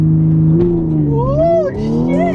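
Audi S4 launching at full throttle in sport mode, the engine revving up in a rising, sweeping pitch with brief shifts, loud and close.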